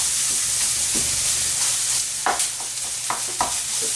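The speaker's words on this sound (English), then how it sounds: "Take my spatula here and I'm going to break up the meat." Ground meat sizzling steadily in a hot pan while a spatula breaks it up, with a constant loud frying hiss and occasional scraping knocks of the spatula, close up and without talk.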